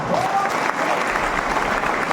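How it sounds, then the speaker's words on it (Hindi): An audience claps steadily and loudly throughout at a political speech in Bengaluru about Jharkhand's local and planning policies, a dense, even wash of applause. "तो हमें ताली भी बजा देना,"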